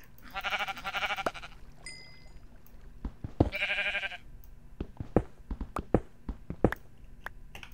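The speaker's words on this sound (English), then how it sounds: "Here's another sheep." Two drawn-out sheep bleats in Minecraft, followed by a scatter of sharp clicks and taps.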